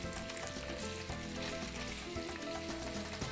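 Sliced jalapeños fry in hot oil until crispy, a dense, steady sizzle and crackle heard close and continuous throughout.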